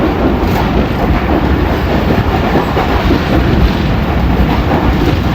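Pakistan Express passenger train rumbling loudly along the rails, a dense continuous roar of wheels and carriages heard from on board with no talk.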